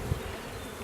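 Honey bees buzzing close by at a hive during a beekeeper's spring inspection, a steady insect drone filling the short moment with no voices.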